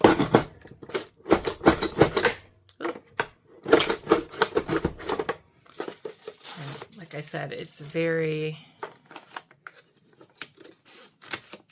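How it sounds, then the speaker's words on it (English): Repeated crisp snipping and crunching cuts of scissors through thick faux leather come in quick bursts, with a person speaking over part of it and a brief voiced sound near the middle. "I just took my scissors and I finished that up."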